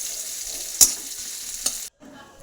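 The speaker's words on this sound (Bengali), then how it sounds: "এবার আমরা পেঁয়াজগুলোকে ভেজে নেব দু মিনিট মতন যাতে লাল লাল হয়ে যায় পেঁয়াজগুলো" Onions fry in oil in a pan with a soft, even sizzle, broken by two sharp clicks of a utensil before the sound cuts off briefly near the end; no speech.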